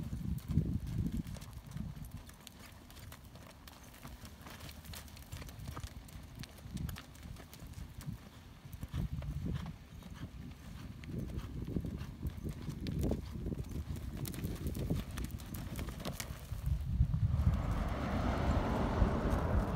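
Muffled hoofbeats thud rhythmically on soft ground as a barrel racing horse moves around an arena, fairly distant, with a low rumble rising near the end.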